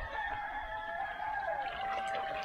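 Three thousand day-old Cheonggye chicks peep together in a dense, continuous chorus of high, thin calls, steady and fairly loud throughout with no talking.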